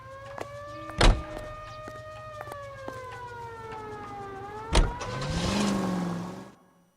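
A car in the LA Noire video game drives with a humming engine whose pitch shifts and rises. Two sharp knocks punctuate the run, and it ends in a louder roaring acceleration before cutting off.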